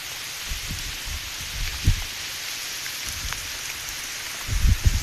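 Steady rain falls in an outdoor spot where shellfish are gathered, a constant soft hiss of drops with a few low thumps and rumbles breaking through, loudest near the end.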